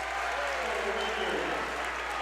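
A crowd at a high school basketball game cheers and applauds in a broad, steady roar while a commentator talks over it.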